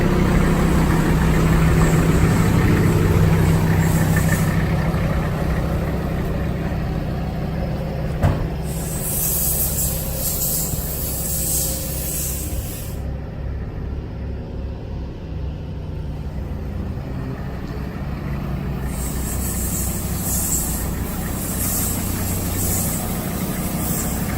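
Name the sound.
1991 Toyota Land Cruiser PZJ77 engine running, pulled outside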